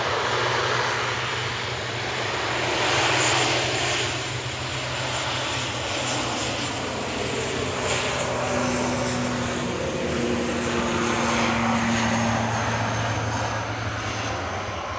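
An Aer Lingus ATR 72-600 turboprop departing Manchester for Belfast drones loudly with a steady propeller hum and rising tonal whine, sustained for the whole stretch with no voices.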